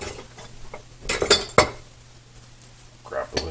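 A whisk or utensil knocks and clinks against a pot of chocolate milk in a few sharp metallic taps, separated by quiet gaps, with a faint hum underneath.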